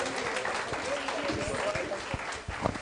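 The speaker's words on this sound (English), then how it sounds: "Another resounding applause for this amazing panel." Audience applause for a panel at a women's leadership book launch event, a steady dense clapping from a crowd that fills the whole stretch, with a voice briefly audible beneath it.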